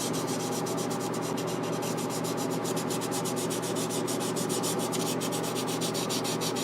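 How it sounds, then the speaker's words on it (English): Wet sanding by hand with 1000-grit paper takes paint off a car part in a steady, rapid back-and-forth scrubbing rhythm, close and continuous with no talking. "I just dip it in and I wet sand it."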